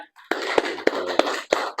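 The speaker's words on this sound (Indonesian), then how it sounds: "Alhamdulillah, tepuk tangan dulu ya." A classroom gives a short burst of hand clapping, a few sharp, fairly close claps spaced roughly evenly over a couple of seconds.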